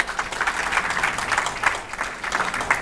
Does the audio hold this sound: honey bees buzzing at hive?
no